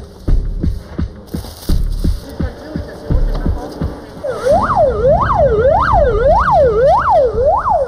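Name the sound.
ambulance siren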